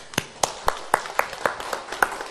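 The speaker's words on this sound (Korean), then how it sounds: "우리 한 박수 한번 치자고요." Hands clap in an even, brisk rhythm, about four claps a second, at a Sunday morning church service in Korea. The claps are moderately close and come from only a few people rather than a full applause.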